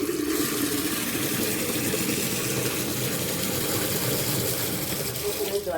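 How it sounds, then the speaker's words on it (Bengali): Water gushes steadily and at close range as bottles are filled, a continuous broadband rush that never stops through the whole stretch and has no talking over it. "জলটা তুলি, জলগুলো ভর্তি করে নিই।"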